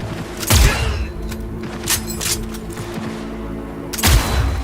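Rifle gunfire in the Cyberpunk video game, with several sharp, loud reports spread across the clip over a steady mechanical game hum. The loudest blasts come near the start and the end.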